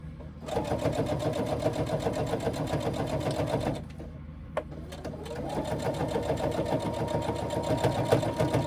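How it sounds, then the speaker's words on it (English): A sewing machine runs a double reverse stitch in two steady bursts, forward and back, with a short pause between them, close and loud with no talk. "Double reverse stitch again."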